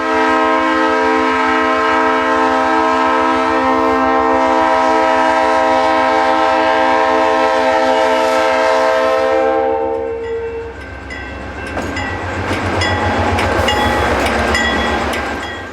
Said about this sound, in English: the first train of the morning leaves for Antonito